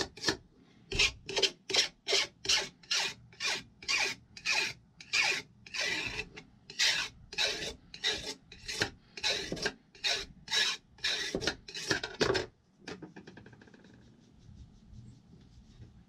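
A metal file rasps across a chainsaw bar to remove burrs, about fifteen loud, close, evenly spaced strokes in a steady rhythm before falling quiet.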